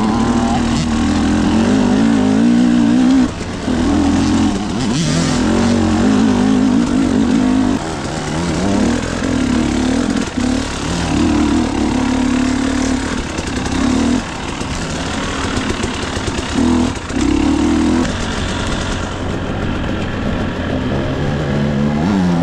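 A rebuilt motorcycle being ridden in second or third gear, its engine holding a steady, loud drone near the microphone with mild swells in revs and wind rush throughout.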